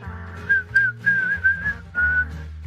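A person whistles a short, wavering tune in several phrases, clear and close, over a soft low background hum.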